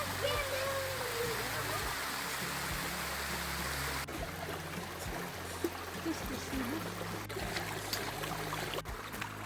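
Saut de la Bourrique, a small waterfall on a little stream in the Vosges, pours in a constant full rushing wash close by, with low wind rumble and faint voices in the background.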